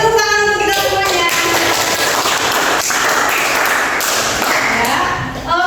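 A classroom group claps together after a counting game, a dense sustained burst of hand claps filling the room, with children's voices chattering over it.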